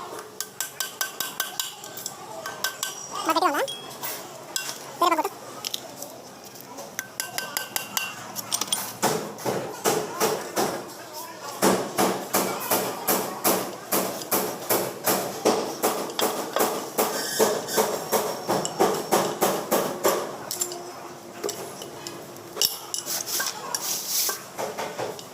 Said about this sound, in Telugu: రేర్ కవర్ ఆయిల్ సీలు అంటే ఇవి పనికిరావు కాబట్టి మేము స్క్రూ డ్రైవర్తో వాటితో ఇటు కొట్టి తీసేస్తాము